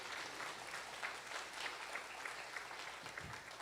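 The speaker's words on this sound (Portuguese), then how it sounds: "Dá para aplaudir esse Senhor que você serve?" A church congregation claps in praise to God during a sermon, a steady, distant-sounding wash of applause that holds evenly throughout at a fairly low level.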